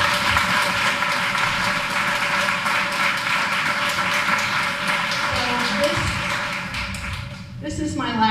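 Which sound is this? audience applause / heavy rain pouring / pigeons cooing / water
audience applause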